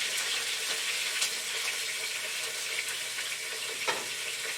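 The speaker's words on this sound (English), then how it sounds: "we're not cooking them, we're just browning them up" Pork chops sizzle steadily in a hot frying pan as they brown, a dense, even crackle close up with small pops and no voices over it.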